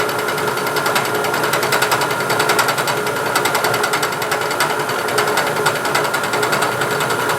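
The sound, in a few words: milling machine climb milling the back side of steel stock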